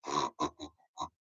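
Children's voices imitate a pig with four short oinking grunts, evenly spaced and fairly quiet, with no other sound around them.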